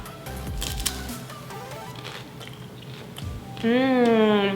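Crispy fried fish, Cambodian Trey Jein Ju in tomato sauce with onion and ginger, eaten up close: crunchy bites and chewing at first, then a sustained hummed vocal at the end.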